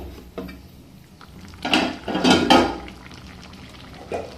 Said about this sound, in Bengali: এই যে ভেজে রাখা আদা আর জিরেটা দিয়ে দিচ্ছি